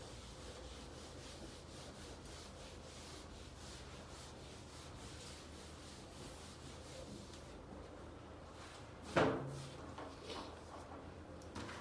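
Writing is rubbed off a board during a maths lesson with a steady, close scrubbing swish that repeats in even strokes, ending with a single sharp knock and a few fainter touches.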